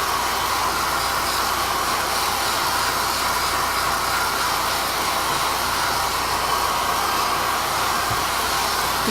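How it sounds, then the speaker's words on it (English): A hair dryer drying a craft project blows a loud, steady whoosh throughout, an unbroken airflow hiss with a constant motor drone and no talking. "I'm going to dry this a little bit"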